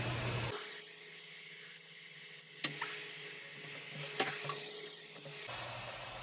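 Ground beef patties set into a hot pan, giving a steady sizzling hiss of frying with a few soft thumps and taps partway through, close and fairly quiet.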